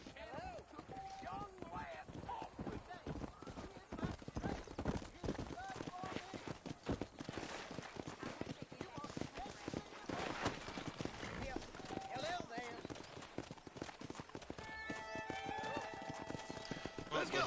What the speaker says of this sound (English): you whistle your horse, and it goes nuts